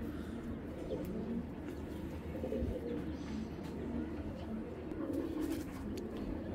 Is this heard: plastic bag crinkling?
no